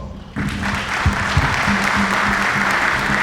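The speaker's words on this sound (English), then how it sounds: "we owe him a great round of applause" A room full of people at a city officials' briefing on flood recovery bursts into sudden, sustained applause, even and fairly close, with a few low thumps beneath the clapping.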